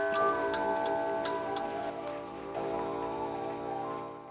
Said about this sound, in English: a museum full of the chaotic chiming of clocks